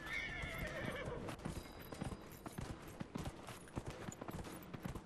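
Horse hooves clip-clop at a steady gait under a rider in the fantasy video game Dragon Age Inquisition, faint rhythmic thuds running on after a brief whinny-like tone at the start.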